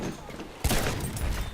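Anti-air rocket gun firing in the video game Battlefield, a sudden loud burst of rapid shots and booms after a brief lull, with a voice talking over the game audio.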